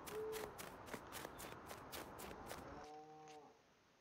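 Cattle moo at a sale barn in a farming video game, with a drawn-out low moo near the start and later tonal calls, under a rhythm of repeated footsteps.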